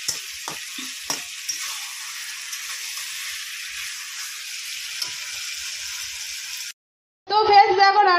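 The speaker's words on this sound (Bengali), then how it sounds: "শাক রান্না করব, তারপর লাস্টে চিকেন রান্না করব।" Leafy greens fry in a pan in a village kitchen, giving a steady close sizzle with a few clinks of stirring, then cutting off before a short burst of voice.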